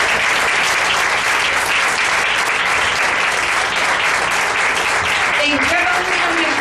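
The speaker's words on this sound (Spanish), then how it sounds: "Aplaude la gloria de Dios" A church congregation applauds during an evangelist's service, a dense, loud, continuous wash of clapping throughout, with a voice rising faintly beneath it toward the end.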